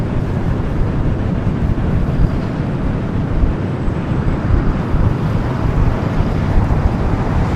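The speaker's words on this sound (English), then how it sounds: "Let's go to a CRJ, Sky West, flight 6372, coming from Tucson. CRJ 700, next arrival here on the south side." A SkyWest CRJ 700 regional jet arriving at LAX on the south side, with a steady, loud broadband roar of engines and wind that holds evenly throughout, no voices.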